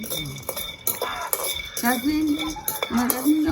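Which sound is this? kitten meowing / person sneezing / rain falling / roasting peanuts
roasting peanuts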